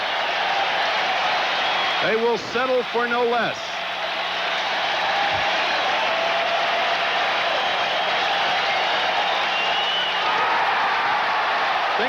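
Standing crowd of 33,000 at a Mets home game against the Dodgers in 1984, a broad steady roar of cheering under a commentator's voice throughout, with brief sung or shouted tones early on.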